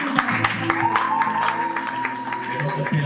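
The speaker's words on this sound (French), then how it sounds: "Aidez-moi par vos acclamations des cris de joie à honorer la vie." Scattered clapping and cheering from a church congregation, fairly close, with voices and shouts rising over the hand claps for a few seconds.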